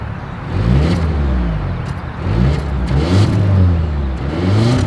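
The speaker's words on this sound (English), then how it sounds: "As always, here is that exhaust clip." Exhaust of a 2024 Volvo XC90 three-row SUV revved repeatedly, with rising and falling engine pitch over several short throttle blips, heard up close and loud with no talking.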